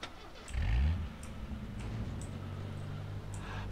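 A car engine in the survival game H1Z1 cranks and catches with a rising surge, then settles into a steady, moderately loud idle hum that continues to the end.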